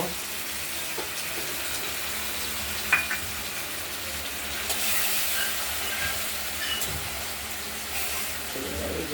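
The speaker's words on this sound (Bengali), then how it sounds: "মশলাটা দিয়ে একটু কষিয়ে নেব" Spice masala sautéing in a pan for a potato, onion and country chicken egg curry: a steady low sizzle with an occasional clink and stirring scrape, moderately close, without talk.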